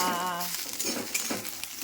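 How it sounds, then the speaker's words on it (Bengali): Fish heads frying in a pan, a crackling sizzle with irregular spits and pops at close range after a brief voice at the start. "মাছের মাথাটি ভাজাও"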